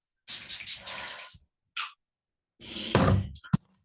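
Two bursts of hissing spray, each a second or so long, then a short hiss and a later longer spray ending with a soft thump nearby.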